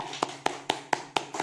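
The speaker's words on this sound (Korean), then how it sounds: "두 청년들에게 박수로 반갑습니다 인사하겠습니다" Six sharp, evenly spaced hand claps in a steady slow rhythm ring out in a church, welcoming two young members of the congregation. They are close and clear with no talking.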